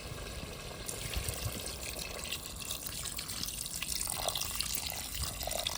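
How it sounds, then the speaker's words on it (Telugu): Water is poured into a pot of cooking chicken haleem, a steady, close splashing wash that runs for several seconds with no voices. "చివరిలో వాటర్ యాడ్ చేసేద్దాం."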